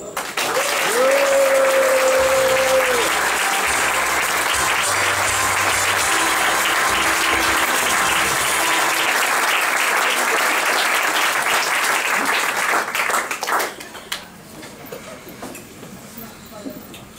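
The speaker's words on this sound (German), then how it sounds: "Ich bitte um einen tosenden Applaus." Loud, thunderous applause from a theater audience at an award tribute event, dense clapping that swells and holds for about thirteen seconds under faint voices and tones, then drops away abruptly to a quieter room.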